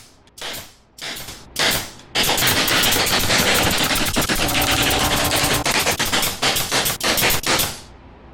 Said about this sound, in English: I'm just going to use an air nail gun and brad nail them in